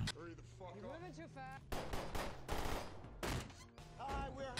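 Shots crack out during firing practice in the film Sabotage, several sharp bursts in quick clusters amid a busy soundtrack, while someone speaks over the opening moments.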